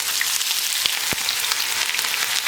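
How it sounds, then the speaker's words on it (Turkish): Onions crackle and sizzle in hot oil, a steady hiss with a couple of sharper pops, fairly close. "Hemen o arada soğanları kavurayım."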